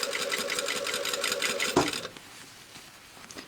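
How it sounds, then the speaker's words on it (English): Sewing machine stitching a dress bodice into a tube, a close, rapid mechanical whirr with quick needle clatter for about two seconds, then a clunk and quiet room tone with a faint tap. "Now see how I'm kind of sewing into a tube."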